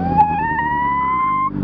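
A full sport motorcycle revs up in Québec, its high-pitched engine note climbing steadily in one long, loud, close pull before cutting off abruptly.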